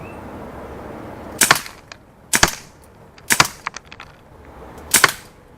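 A Daisy Powerline 426 BB pistol firing Hornady Black Diamond BBs, four sharp snapping shots spaced about a second apart, each followed by small ticking impacts, close and alone.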